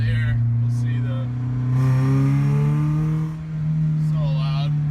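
Loud car exhaust on a modified car fitted with an oil catch can, droning steadily with engine revving up and down while driving, under a man's speech.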